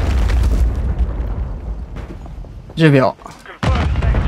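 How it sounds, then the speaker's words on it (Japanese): Explosions from an enemy airstrike in the video game Call of Duty MW3, a heavy low rumble fading out, then a sharp burst and a later blast, with a voice speaking over the start. "これ敵の空爆だと思う。"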